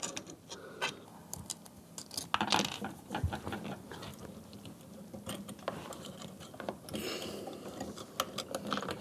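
Screws being backed out with a Phillips head screwdriver while removing a cover during a replacement dishwasher installation: a steady run of close, small ratcheting clicks and metallic ticks, with a few louder clinks, no talking.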